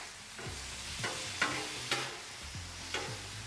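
A ribeye steak sizzles on a Blackstone flat-top griddle, a steady frying hiss broken by four or five scraping spatula strokes spaced about half a second apart, close and fairly quiet, with no voices.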